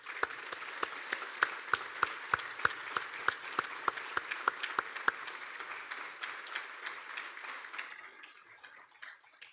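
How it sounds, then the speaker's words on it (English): Applause rises from the audience at a spring awards ceremony for the year's award recipients. A steady patter of many hands carries a few louder, sharper claps near the front and then gradually thins out and fades toward the end. "join me in one final round of applause for this year's award recipients"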